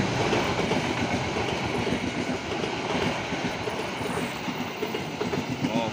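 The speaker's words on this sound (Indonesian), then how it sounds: "Oh, kereta Dharma Wangsa." The Dharmawangsa passenger train on Indonesia's KAI railway passing close by, a steady loud rumble of rolling carriages with rhythmic wheel clatter throughout, without any talk.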